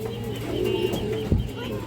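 A domestic pigeon coos softly nearby in a short, throaty rolling phrase, with a sharp knock partway through.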